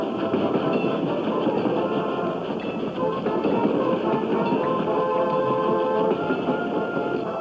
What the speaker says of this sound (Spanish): Los trenes repletos de soldados se acercaban a la capital.